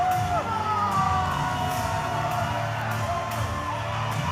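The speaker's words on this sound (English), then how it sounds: "listen to the crowd response here tonight" Wrestling arena crowd cheering for Jessie Godderz at a live OVW show, a loud roar of yells and whoops filling the hall steadily, with sporadic claps and shouts rising above.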